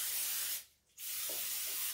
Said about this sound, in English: Make sure you spray your waffle iron every single time.